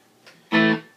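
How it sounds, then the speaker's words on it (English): An electric guitar played through a Behringer DR400 digital reverb delay pedal, used for saturation with a long trail, a faint short note followed by a louder distorted, bright chord that swells and fades out. "It's the Behringer delay reverb, digital reverb delay."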